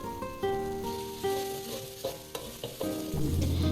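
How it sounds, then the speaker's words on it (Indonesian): Ingredients stir-fried in a pan for a home-style coconut-milk dish, with steady sizzling and several sharp clatters of a utensil against the pan, close and fairly loud with no talking. "Selanjutnya kita tumis kembali hingga benar-benar tercium harumnya dan juga matang."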